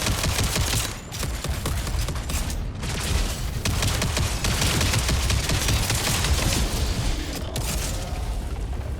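Gunfire in the video game Jump Ship, dense bursts of rapid shots and booms firing almost without pause, loud and close, with no talk.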